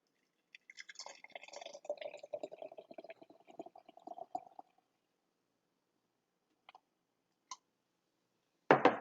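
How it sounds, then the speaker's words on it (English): Mountain Dew soda poured into a jar in a kitchen egg experiment, a steady liquid stream lasting a few seconds, then quiet with a few small clicks and a louder clatter at the end. "Next, we'll pour the Mountain Dew"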